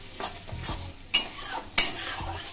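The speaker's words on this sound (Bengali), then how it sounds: "দিয়ে একটু ভাজা ভাজা করে নেব।" Fish roe fritters fry in hot oil in a pan as a utensil stirs them, a low steady sizzle broken by two sharp scraping clatters of the spoon against the pan.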